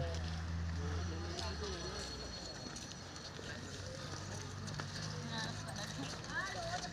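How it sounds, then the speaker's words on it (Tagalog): A horse's hooves clip-clop along a busy tourist street, the soft repeated footfalls sitting under a murmur of nearby voices and background noise. "Nasa baba po yung kabayo."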